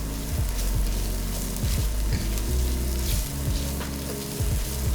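Tomato paste sizzles in a pan with rendered smoked bacon as it is smeared across the bottom, a steady close frying hiss broken by soft scraping strokes of a utensil.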